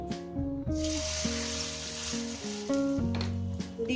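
Hot oil sizzles in a kadai with a continuous bright hiss, partly covered by melodic background music.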